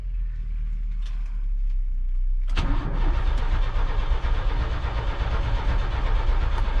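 An OBS Chevrolet Silverado that will not start, its engine cranking loudly and steadily after a quiet moment, with no catch or idle following.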